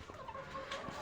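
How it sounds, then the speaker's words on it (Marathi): Desi hens on a house rooftop cluck softly, a brief run of low murmuring clucks heard faintly at a short distance, with no talk. "चिक्ससाठी कोंबड्या बसवलेल्या आहे आपण"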